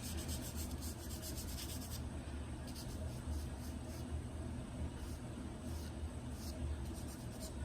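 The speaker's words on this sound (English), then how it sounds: "I'm gonna press even lighter, barely touching my paper, and just kind of scribble in some light" Charcoal scribbles lightly over drawing paper in a quiet, continuous scratchy rubbing, close but faint, with soft strokes breaking into short rhythmic bursts.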